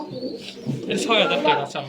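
Pigeons coo softly at a pigeon farm in Bogura, Bangladesh, in a close, busy mix of bird sounds, with a few brief higher chirps over the low cooing.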